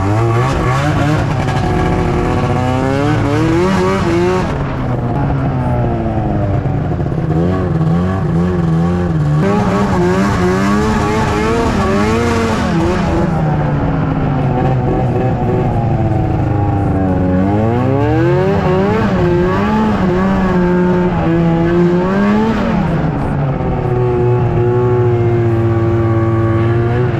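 An old 2005 Arctic Cat Firecat F6 snowmobile engine revs and climbs repeatedly, its pitch sweeping up and falling back in long loud surges for nearly half a minute, close and unbroken by speech.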